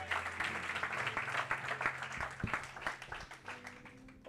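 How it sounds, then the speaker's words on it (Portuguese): A church congregation claps during a service, a dense, uneven patter of many hands with a few sharper individual claps and a faint low hum underneath, tapering slightly toward the end. "Vamos aplaudir o Senhor."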